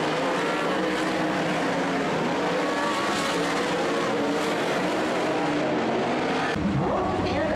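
Oval track race cars roar away together at the start of a heat race, a dense, loud, continuous engine blare that stays steady throughout with no break.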